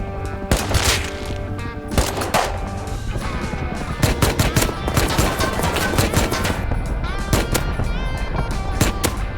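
Automatic gunfire in the Rust video game during a raid on an armored island base, loud repeated bursts and rapid shots crackling almost continuously over the whole stretch.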